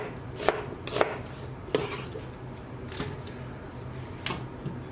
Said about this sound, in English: all we want to do with the onion is just coarsely chop it like so